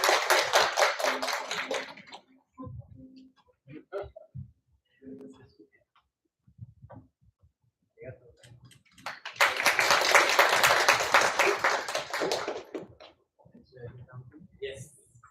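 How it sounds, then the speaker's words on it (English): Audience applause at a Hult Prize university qualifier event as a judge is invited to the stage: two loud bursts of clapping from a crowd, one at the start and a longer one in the middle, with speech between and after. "A round of applause."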